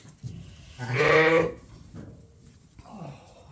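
Sheep and lambs bleat in a lambing barn, one loud, drawn-out, wavering bleat standing out near the middle, with fainter, shorter calls before and after.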